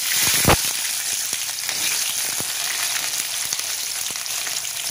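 Shallots frying in hot oil with mustard seeds for a Tamil fenugreek kulambu, a close, steady sizzle with scattered pops and crackles throughout, one louder spit near the start.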